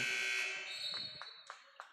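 A loud electronic buzzer sounds at a boys' high school basketball game to end a quarter, a sustained tone that fades over about a second, followed by a few short squeaks and thumps from the court.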